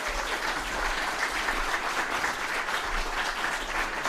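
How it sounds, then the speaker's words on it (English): Sustained audience applause welcoming a speaker at St. Benedict Center, a steady dense wash of many hands clapping at moderate distance for about four seconds with no talk over it. "let's give him a great round of applause and a welcome to St. Benedict Center"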